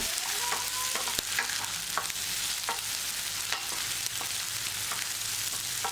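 Onions and garlic sauté in a pan for garlic chutney, giving a dense, constant sizzle with light stirring taps scattered through it.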